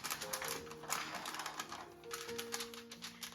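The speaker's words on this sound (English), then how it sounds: "I'm going to write on top of my foil." Quiet scratching and tapping of a pen writing on aluminum foil covering a roasting turkey, a rapid irregular run of light crinkly taps close by.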